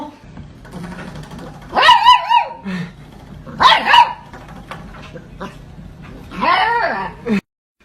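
A dog gives three loud, close barks spaced a couple of seconds apart, each one bursting out over a quiet indoor background.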